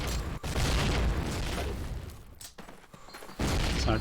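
Grenade blasts in a competitive first-person shooter match, loud booming bursts with a dense roar, a short gap, then another heavy blast, no voices.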